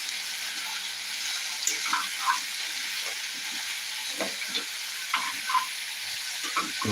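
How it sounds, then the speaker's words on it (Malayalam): Coriander powder and spices stirred in a sizzling pan while cooking a green peas curry, a steady broadband fry hiss with scraping stir clicks and small bursts throughout, close and fairly loud with no talking. "കുറച്ച് കഷ്ടപ്പെട്ട മല്ലിപ്പൊടി ഇട്ട് കൊടുത്തിട്ടുണ്ട് നന്നായിട്ടൊന്ന് ഇളക്കി കൊടുക്കുക"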